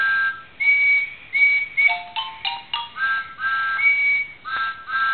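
A voice imitates a little toy train's whistle with a series of short and drawn-out high whistling hoots, some sliding in pitch, close and clear with no other sound around them.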